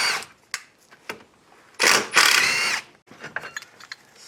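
Ratchet wrench clicking in short bursts while a brake caliper is unbolted during an LS engine swap, with a louder sustained ratcheting stretch in the middle, close up and alone.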